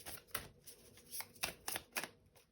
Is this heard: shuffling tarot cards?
yes